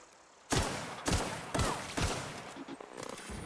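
A corrosive pistol fires at robots in the video game The Outer Worlds: four loud, evenly spaced shots, each with a booming tail, followed by a few fainter game impacts and effects.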